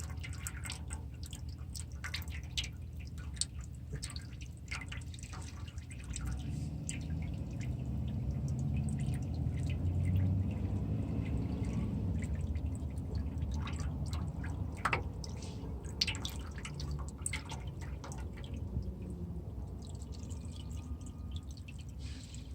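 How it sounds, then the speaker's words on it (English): Motor oil from a Nissan Titan draining into an oil pan, a steady trickling and dripping flow running continuously at close range beneath a low background rumble, with no talking. "Allow all of the oil to drain"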